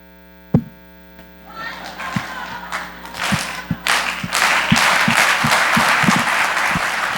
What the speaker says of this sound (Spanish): es muy lindo que te aplaudan antes de hablar